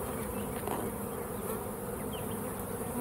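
Honeybees buzz at an open hive, a dense, steady drone of many insects close by with the odd individual bee whizzing past, continuous and moderately loud with no talk.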